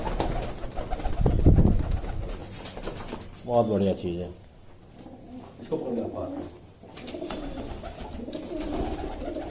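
Soft pigeon coos come in a few brief phrases amid rustling and handling noise, with someone speaking intermittently over them.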